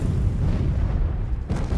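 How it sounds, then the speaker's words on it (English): Heavy naval gunfire from 16-inch battleship guns rumbles as a sustained, loud, low booming barrage with one sharper burst near the end. "Even for those Germans who had fought in Russia, naval gunfire proved to be a devastating experience"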